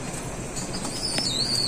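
Golden Rampuri pigeons flap their wings in a short, soft burst of fluttering, close by and fairly quiet, with a faint high whistle near the end and no talk.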